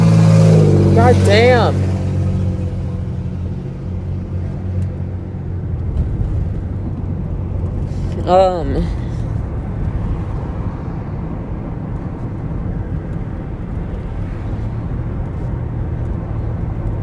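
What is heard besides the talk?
loud car engine passing by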